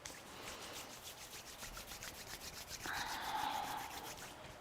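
Soft, steady friction of palms or soles of the feet being rubbed together during a lying-down yoga practice, a continuous close brushing hiss that grows slightly louder and brighter toward the end.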